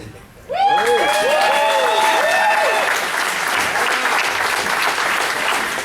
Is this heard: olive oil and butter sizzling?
no